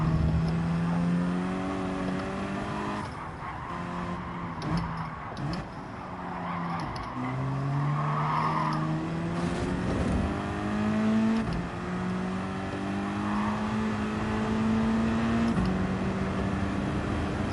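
Engine note of a race car in Gran Turismo 7 on a manufacturer-day online race, rising and falling through gear changes at steady loud volume, with a low hum underneath throughout.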